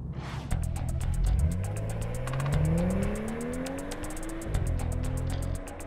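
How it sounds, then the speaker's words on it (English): A 2014 BMW 4 Series inline six-cylinder engine revs up through several gears, rising in pitch, dropping at each shift and climbing again, loud and close with a whirring edge. "you're used to having an inline six-cylinder engine, the sound and the feel will be something that you're familiar with"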